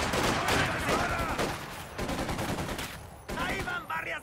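Enemy gunfire in the World War II strategy game Company of Heroes 2, dense crackling bursts of rifle and machine-gun shots layered over battle noise, with a shouted voice briefly heard amid the firing.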